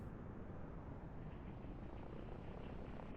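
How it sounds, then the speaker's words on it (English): Helicopters and other air units in the strategy game Line War, a constant low whirring engine rumble that holds steady and faint underneath, with no pauses or distinct passes. "these helicopters and air units are just going to tear him up"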